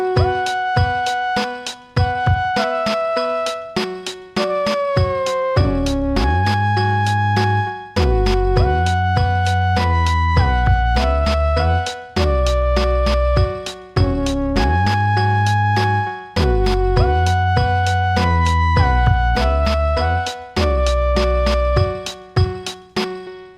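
A synthesized indie game tune plays loud and alone, with a deep bass line doubling the lead melody an octave apart in repeating phrases and steady rhythmic notes.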